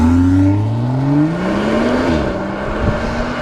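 A 2018 BMW 340i M Performance Touring accelerates, its exhaust note rising steadily in pitch with a loud, close, throaty drone, then dropping as it shifts gear and pulls again, with no talk.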